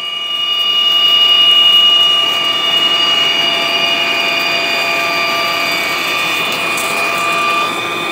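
A Cazeneuve metal engine lathe making a deep cut, a loud steady high-pitched ringing whine with a constant machine drone, continuous and close with no speech.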